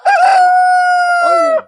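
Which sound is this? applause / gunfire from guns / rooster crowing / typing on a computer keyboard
rooster crowing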